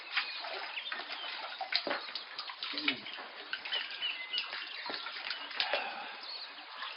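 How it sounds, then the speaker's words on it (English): Mountain water flows in a steady, close rushing wash that continues evenly throughout with no break. "mountain water's beautiful"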